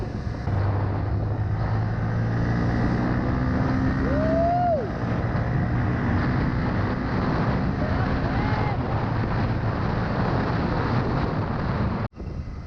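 Yamaha TFX motorcycle ridden on an open road in Bohol, its steady engine drone heard over loud wind rush on the microphone for the whole stretch, with a brief rising rev in the middle and a sudden thump near the end.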